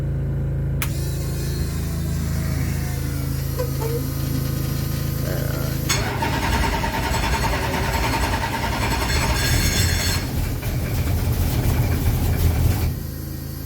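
A TVR 95 race car engine being started, rumbling low and steady before a harsher, rougher surge of revving as it struggles to hold idle, close and loud throughout.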